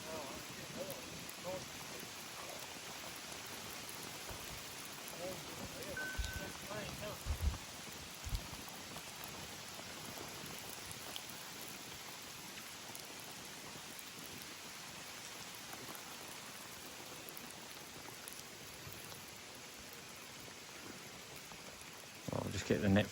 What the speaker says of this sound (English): it's chucking down the rain on it